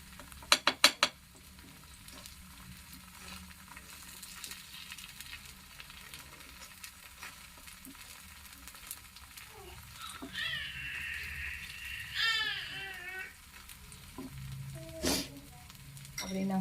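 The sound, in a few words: wheat flour pudla frying and sizzling in a pan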